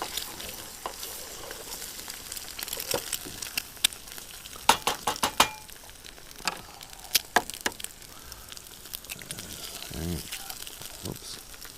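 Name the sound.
eggs scrambling in sizzling butter on a camping stove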